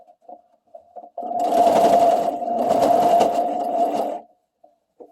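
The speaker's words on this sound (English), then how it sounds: "fold about ½ inch back, and then sew your way across" A sewing machine stitching across folded fabric for a sweater romper, a steady close motor whir running about three seconds with a brief pause, flanked by short start-stop bursts.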